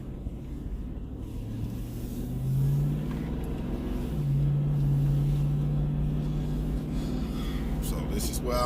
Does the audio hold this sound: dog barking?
no